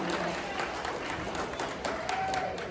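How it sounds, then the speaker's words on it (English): Gala crowd applauding after a live auction, moderately distant clapping mixed with murmuring voices. "Give yourselves a round of applause for being so generous and participating in the live auction."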